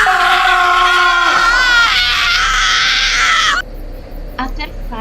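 Loud, close screams and wailing pleas from young people in a thriller sound effect, sustained and strained, then cutting off abruptly into quieter, fainter cries.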